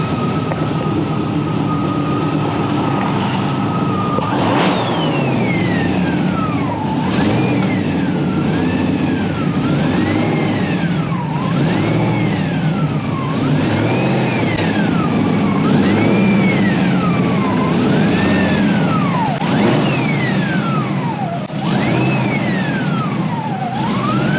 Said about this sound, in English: He's just got to bring the car out.